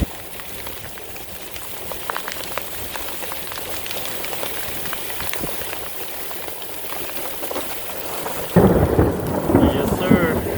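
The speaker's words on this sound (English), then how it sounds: "This rain's coming in nearly horizontal." Heavy wind-driven rain hammers down steadily during a weak supercell with strong wind and cloud-to-ground lightning, with thunder rumbling through it, and a louder, close gusty burst near the end.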